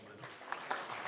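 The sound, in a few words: audience applause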